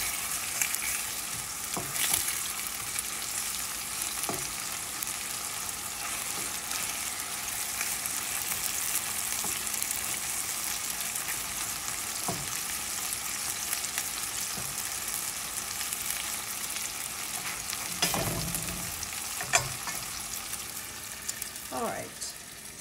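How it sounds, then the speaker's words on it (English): Shallots frying in butter in a skillet give a steady bright sizzle throughout, broken by occasional spoon stirs and scrapes against the pan. "we're just going to cook these for a minute and let them soften up, release those juices and oils in our butter here"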